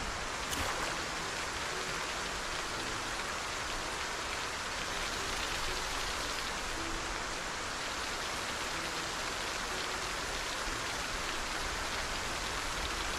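Steady rain in the survival video game Project Zomboid, a constant even hiss of falling drops that holds at the same level throughout, with no voices or other sounds over it.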